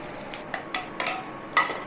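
Fried raw jackfruit pieces are poured into a pan for curry, making a few scattered clinks and scraping knocks against the metal, fairly faint with soft background hiss.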